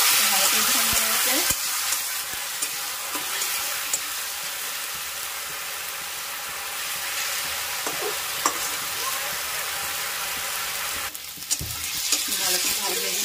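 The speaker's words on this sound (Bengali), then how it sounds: "আমি এবার গ্রেট করা 2টো টমেটো দিয়ে দিচ্ছি" Two grated tomatoes hitting hot oil in a pan for a homestyle Bengali chicken curry, a loud close sizzle with scraping stirs, easing into a steadier frying hiss before a second burst near the end.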